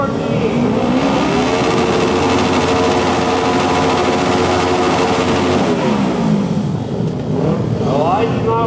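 Pro Expert Twins motorcycles at a heat race of the Barbara Fritchie Classic, a loud roar of engines revving and rising in pitch, with an announcer's voice over the noise.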